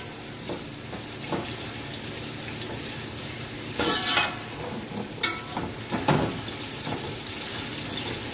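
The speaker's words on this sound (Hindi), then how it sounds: "इसमें दाना मेथी का भगार लगाएंगे, इससे बहुत अच्छी खुशबू आती है ना" Fenugreek seeds and curry leaves frying in hot oil for a fish salan tempering, a soft continuous sizzle with a few louder crackling bursts and clinks, close and fairly quiet.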